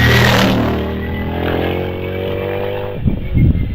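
The big red Kronos hillclimb car with a large Audi engine accelerates hard out of a corner at Harewood, a loud close engine note rising in pitch through the gear, then fading into rougher, more distant rumbling.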